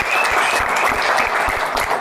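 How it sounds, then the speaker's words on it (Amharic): Dense, warm applause from a studio audience fills a Saturday-afternoon television game show as the winning pair is announced, loud and continuous throughout. "ሞቅ ያለ ጭብጨባ"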